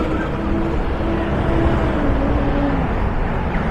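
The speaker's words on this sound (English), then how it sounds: "Hopefully the traffic noise isn't too bad." Street traffic near Kings Cross, a steady low rumble of passing vehicles and engines, continuous and fairly loud without clear breaks.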